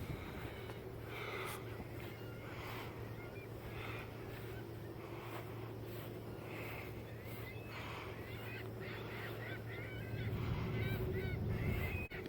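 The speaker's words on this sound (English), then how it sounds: "there's seagulls all over the place" Seagulls call repeatedly in a busy flock at a lakeshore lighthouse point near Fond du Lac, Wisconsin, faint honking cries scattered over a steady low rumble of water and wind, with brief talk.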